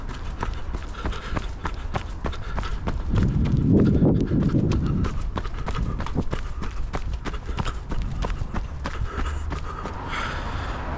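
Rhythmic running footsteps pound steadily on a GoPro 10 microphone fitted with a Windslayer cover, with buffeting wind noise swelling in the middle and continuing under the regular strides.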